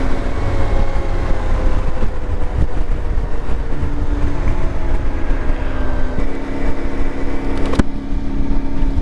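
An IBEX 450 motorcycle with a 15-tooth sprocket fitted runs at road speed, giving a loud, steady engine drone mixed with rushing wind noise that holds without a break.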